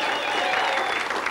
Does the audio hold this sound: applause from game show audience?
yes